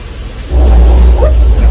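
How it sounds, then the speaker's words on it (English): Rainstorm effect on a Hollywood studio backlot, with sprinkler water shot into the air and falling back down, a loud dense low rumble that swells in after a moment and holds steady. "we use a very special Hollywood exclusive technique called a sprinkler. We shoot water directly up into the air."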